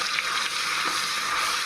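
Ginger garlic paste fries in hot oil with a continuous bright, hissing sizzle, close and steady throughout, with no voices.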